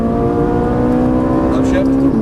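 A Ferrari 458 Italia accelerates at full throttle on a racetrack, its engine a loud, steady high-pitched drone with a tonal howl that rises slightly near the end, heard from close by with a voice speaking over it.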